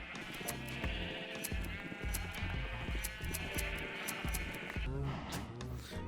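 Minecraft sheep bleat again and again in quick succession over busy background game sound, fairly loud and close throughout.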